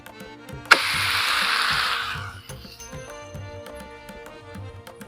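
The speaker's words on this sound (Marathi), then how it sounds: "तेल लावून घेतलंय आता धापाटा वर टाकून घेऊ" Dhapata flatbread, made with curd and oil, laid onto an oiled griddle outdoors: a sudden sizzle bursts up when the dough lands and fades after a second or so, over steady rhythmic background music.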